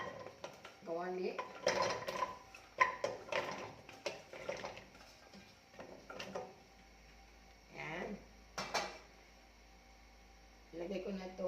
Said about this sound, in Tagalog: ilagay ko na itong mga gulay guys dito sa kawali.